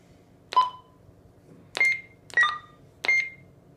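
Four short electronic key beeps from a Bridge Comm BCH-220 handheld radio, close and clear, each a brief tone at a slightly different pitch, spaced about half a second to a second apart over quiet background.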